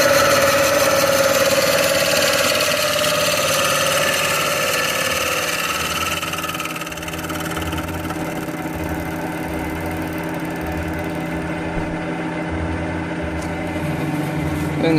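An Adept CIM centre lathe machining a yoyo from timber produces a steady mechanical hum and whir with shifting motor tones, continuous and fairly loud, with no speech.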